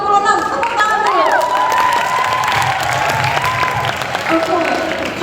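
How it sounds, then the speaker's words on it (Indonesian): Loud crowd at a university expo, UMJ Expo 2026, applauding and cheering with shouts and whoops, steady clapping throughout while voices call out over it. "Tepuk tangan dulu."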